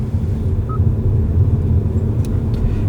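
Kia XCeed plug-in hybrid driving on electric power, a steady low road and tyre rumble heard from inside the cabin, with no engine note and only faint light clicks.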